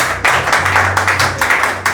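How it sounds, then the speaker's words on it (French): Audience applause during a gospel music show, a short burst of clapping in uneven waves over a low steady hum, close and fairly loud. "On applaudit, s'il vous plaît."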